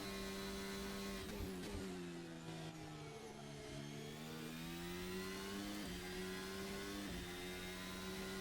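A car's engine holds a steady, droning note at full throttle on a race track, its pitch dipping and climbing with a few sharp shifts, heard from inside the car with no speech.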